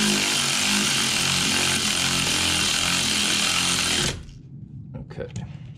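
A power tool runs hard and continuously for about four seconds while tightening Brembo brake caliper bolts on an S550 Mustang GT, giving a loud buzzing whir that then cuts off, followed by faint clicks and handling noise.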